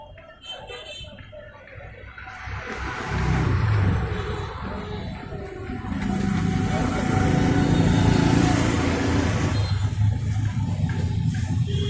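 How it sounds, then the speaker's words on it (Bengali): A polishing machine works over furniture in a Bakalia, Chattogram workshop, its steady motor whine swelling louder and holding, with a voice talking nearby. "পালিশ করা হচ্ছে এখানে।"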